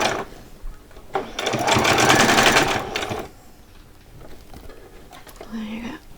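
A home sewing machine stitches fabric for Christmas pyjamas in a steady, close, buzzing run of about two seconds, then stops, with quiet handling noises and soft talk around it.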